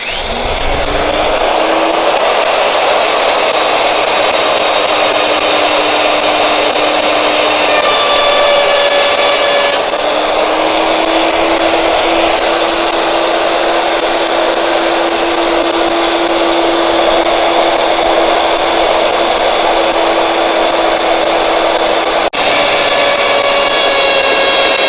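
A power drill bores steadily through the sheet-metal body of a homemade powder coating oven, a loud continuous whine held for a long stretch with a brief dip partway through, no voices.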